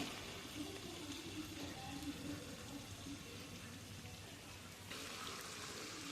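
Chhatu puri deep-frying in hot oil over a high gas flame, giving a steady, dense sizzling hiss that brightens and grows louder near the end.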